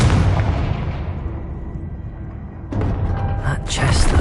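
In the Hogwarts Legacy video game, a Confringo blasting spell explodes with a loud boom whose rumble fades, followed by a second sharp burst.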